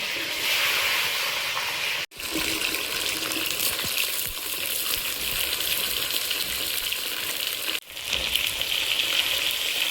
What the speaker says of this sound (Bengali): কড়াইতে তেল দিয়ে দিচ্ছি, ওল আলু পুঁই শাক আগে ভেজে নেব।